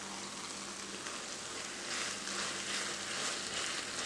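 Green tomato chutney with tamarind stirred in a pan, giving a steady soft sizzle and scraping hiss, even and moderately close with no talking.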